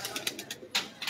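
A large black-faced pigeon, about eighteen years old, gives soft coos that come in quick, evenly spaced pulses, close by and fairly quiet, with no voices over them.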